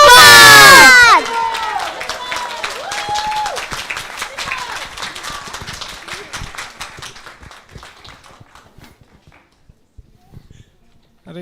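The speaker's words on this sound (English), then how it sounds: "There's a very spontaneous applause for the children" Loud burst of cheering and shouting erupts from a festival crowd honoring children, then settles into sustained applause that gradually thins and fades, with scattered voices over the clapping.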